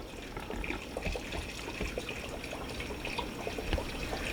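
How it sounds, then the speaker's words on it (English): Water slowly poured into a simple guppy fish tank during setup, a continuous soft trickle and splashing with small drips, steady and close with no voices. "He's going to add a little bit of water just to kind of make sure everything levels out."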